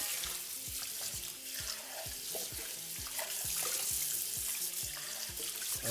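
Tap water runs into a pot to rinse rice, a continuous soft splashing and hiss, faint and steady with small irregular knocks underneath.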